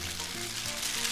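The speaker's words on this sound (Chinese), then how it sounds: "我们去翻炒它。" Prawn linguine stir-frying in a pan, a soft continuous hiss of sizzling with faint stirring, close and quiet.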